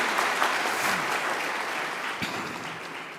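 Sustained audience applause at a University of Nairobi graduation ceremony, a dense wash of many hands clapping that holds steady and fades slightly toward the end.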